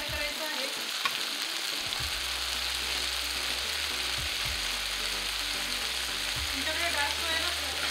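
Manchurian pieces sizzle and fry in hot oil with a steady, close, dense crackle that runs the whole time, over a low rumble in the background.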